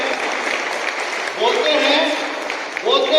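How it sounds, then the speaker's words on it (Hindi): Audience applause at a business event honouring a company founder, a steady dense clatter of clapping with voices and cheering rising through the middle and end. "मैं जोरदार तालियां चाहता हूं उस शख्स के लिए जिन्होंने डीटीएम कंपनी बनाई, माननीय प्रदीप जैन जी के लिए।"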